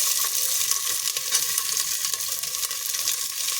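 Carrots, peas, beans and capsicum fry in a hot pan for a wheat khichdi, giving a steady, loud, close sizzle that holds without a break and has no talking over it.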